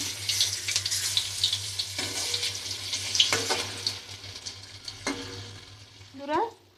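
Vegetarian mock fish pieces sizzle steadily in oil in a wok, with scraping stirring strokes throughout and a brief metallic clatter near the end.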